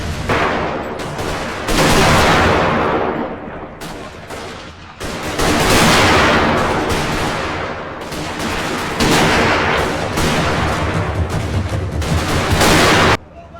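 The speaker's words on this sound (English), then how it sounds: "The disciplined volleys of rifle fire from the British soldiers, along with the devastating impact of their artillery" Rifle volleys and artillery fire from British troops boom in a Total War historic battle of the 1879 Anglo-Zulu War, loud crashing blasts in long overlapping waves that swell and fade almost without pause, no talking.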